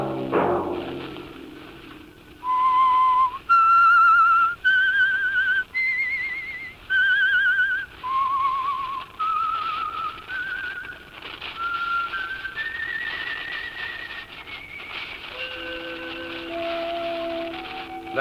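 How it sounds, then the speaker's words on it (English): Someone whistles the theme of the radio program The Whistler alone: a slow, clear melody of sustained notes, with a low note and a sharp thump at the start. "Let that whistle be your signal for the Signal Oil program, The Whistler, each Sunday night at this same time."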